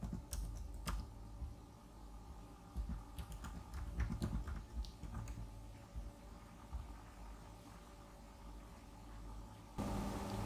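Quiet clicking of a computer keyboard in bursts of keystrokes, close but faint, with short pauses and no talking.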